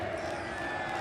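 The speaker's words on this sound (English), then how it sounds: "Alex, this is how Brazilians cheer" Brazilian fans in an esports arena cheering for SK Gaming at a CS:GO match, a brief dense roar of crowd voices and whoops, loud and continuous for about a second.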